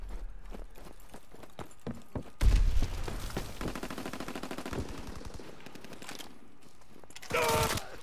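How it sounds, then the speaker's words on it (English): Rapid machine-gun bursts from a strafing fighter plane in Call of Duty: WWII, a rattling string of shots with a heavy impact burst, steady fire, then a loud closing blast, all fairly close. "Fighter pilot inbound. Strafing the target."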